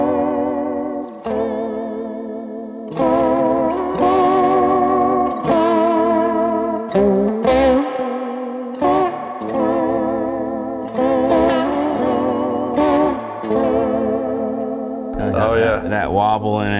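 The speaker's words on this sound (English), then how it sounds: "So this next one, it's the Julia, which is like the vibrato chorus kind of thing." An electric guitar runs through a Julia vibrato chorus pedal set toward vibrato, chords and single notes wobbling in pitch with a warbling shimmer, played close and loud with brief gaps between phrases and no talk.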